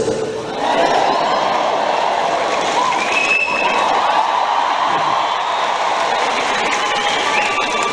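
An audience at a concert show breaks into sustained, dense applause with cheers and whoops, a steady roar of clapping filling the hall.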